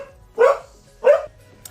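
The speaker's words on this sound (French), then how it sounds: "Désolée pour le chien." Two sharp dog barks, close and loud, spaced about half a second apart, with quiet in between.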